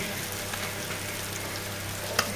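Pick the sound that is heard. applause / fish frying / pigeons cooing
fish frying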